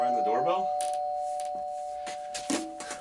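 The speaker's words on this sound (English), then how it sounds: "Someone rang the doorbell?" A doorbell chime rings out, a clear ding-dong with sustained tonal ringing that fades, heard alongside a voice talking over it and a few sharper knocks or clicks near the end.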